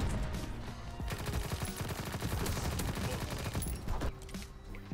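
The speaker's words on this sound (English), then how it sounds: "you can get inside of this tank and shoot the minigun" Rapid, sustained automatic fire from a tank-mounted minigun in the Call of Duty: WWII multiplayer beta, a dense continuous roar of shots running loud and close for the whole stretch, easing off slightly near the end.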